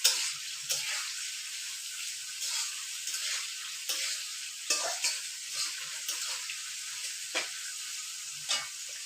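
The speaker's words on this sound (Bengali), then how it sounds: "এবারে ভালো করে ভেজে নেবে, ভালো করে নাড়বেন।" Food sizzles steadily in a hot pan while it is fried and stirred, with occasional scraping strokes of the spoon breaking through the continuous hiss. The sound is close, at a moderate level, with no one talking.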